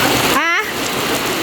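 Heavy rain pours down steadily at a house being plastered, a dense loud hiss that continues throughout, with a short burst of someone's voice near the start.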